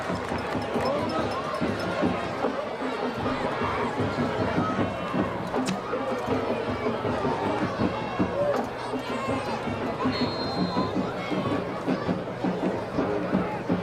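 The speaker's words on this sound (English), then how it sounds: "please give one more round of applause to Joe Toma" Stadium crowd at a high school football game between Piqua and Sidney applauding Joe Toma, a dense, steady roar of clapping and cheering that fills the whole stretch with no break.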